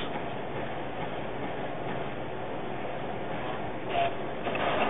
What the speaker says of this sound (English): Still aligning the cartridges.